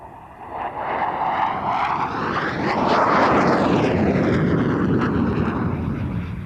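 A Dassault Etendard IV naval jet fighter of the French Navy flies at the 1993 International Air Tattoo, its loud jet roar swelling as it sweeps past with a shifting whine, then easing slightly.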